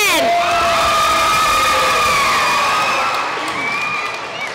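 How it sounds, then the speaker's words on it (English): Families at a kindergarten graduation cheering and clapping for a graduate, excited shouts and high whoops over a steady bed of applause, loud and close before easing slightly. "Give her a round of applause again!"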